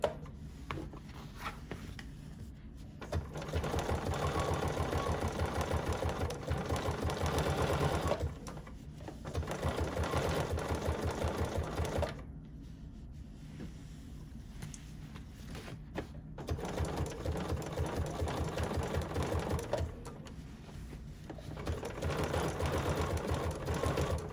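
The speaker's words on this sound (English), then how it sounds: "I'm almost all the way around with this zigzag stitch" A home sewing machine runs a zigzag stitch around a quilted notepad holder, a steady rapid mechanical whirr broken by several short pauses, close and alone.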